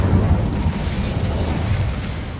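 A fiery Incendio spell bursts in Hogwarts Legacy, a dense, rumbling whoosh of flame that rolls on steadily and loudly for a couple of seconds with no talking.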